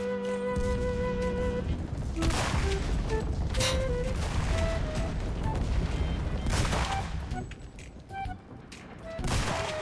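Gunfire in Enlisted, a World War II shooter: dense, continuous volleys of rifle and machine-gun shots crackle over a steady battle din, with scattered pings and impacts throughout.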